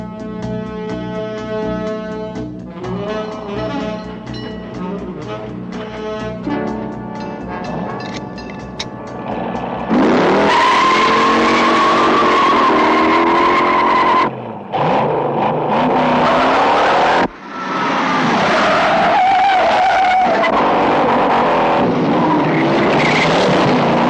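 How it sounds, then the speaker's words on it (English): Car chase from the 1968 film Bullitt: loud, continuous engine roar with revving, passing cars and tire screeches, preceded by a quieter stretch of music-like tones, with no talking. "One of the best car chases ever to grace the big screen."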